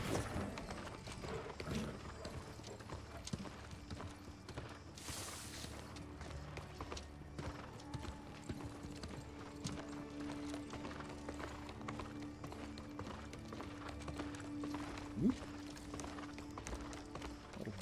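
Horse hooves clip-clop at a steady riding pace in the video game New World, a quiet rhythmic patter mixed under game ambience, music tones and occasional creaks.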